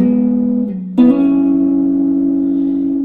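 An electric guitar plays a lick on the 4th and 3rd strings, with a sustained double-stop that shifts pitch, a brief dip, then a sharp re-attack and a hammer-on that rings out clearly and alone.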